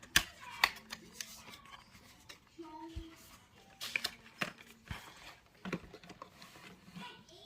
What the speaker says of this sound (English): you can hear the little ball bearing inside